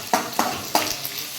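Onions frying in a pan while being stirred: three quick, close scraping strokes over a steady sizzle, loud and with no voices.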